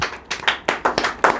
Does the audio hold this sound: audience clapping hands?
yes